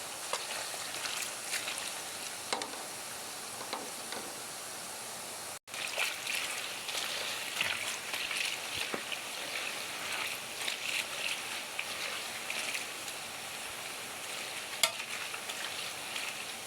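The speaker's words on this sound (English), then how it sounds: "this is ripe plantain we are frying" Ripe plantain slices fry in hot oil for a plantain chip batch, giving a steady, close sizzle and crackle throughout with one brief drop near the middle.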